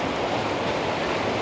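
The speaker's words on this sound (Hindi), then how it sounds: "आज देखो कितना पानी आ रहा है" The flooded Ganga rushes past a Rishikesh ghat in a loud, constant roar of churning water with broad surging noise close by and no pause.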